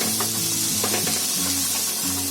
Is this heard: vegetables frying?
yes